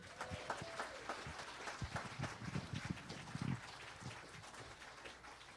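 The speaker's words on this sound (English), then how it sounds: "Another round of applause to them." Audience applause fills a hall after a performance at a Black history and storytelling event, a dense, steady wash of clapping near and loud throughout, with a few voices calling out among the crowd.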